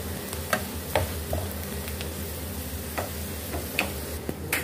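Cumin and paprika powder are stirred into a sizzling tempering for daal gosht, a soft, steady frying hiss with faint spoon scrapes and clicks against the pan.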